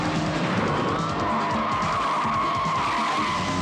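Tires skidding during a car chase in a 1986 action film: a long, loud, sustained squeal over engine roar, steady throughout with no talk.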